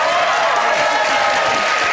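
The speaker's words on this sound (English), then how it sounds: "Do they clap all the time?" Theatre audience applauding loudly, a thick, continuous roar of clapping and crowd noise at close range, filling the whole moment without talk.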